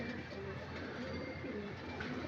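Racing pigeon arriving at the loft after a training flight, giving soft repeated coos against a low steady background murmur.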